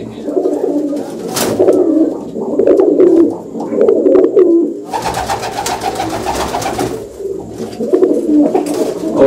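Pigeons of the Hazar-wale and Khattian-wale breeds coo steadily and repeatedly at close range through most of the stretch, with brief wing-flap bursts around the middle and no talk.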